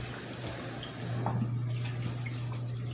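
Tap water runs steadily into a pot to rinse beans in a kitchen, a continuous close splashing rush with a low hum beneath it and no talking.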